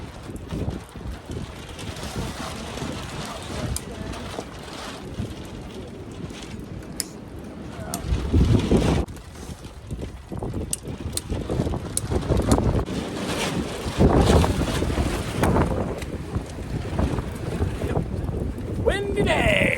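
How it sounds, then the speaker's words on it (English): Gusty wind buffets the microphone outdoors on a windy day during a pop-up camper build, a continuous rough rumble that swells and surges, with voices talking under it. "Windy day! Windy day!"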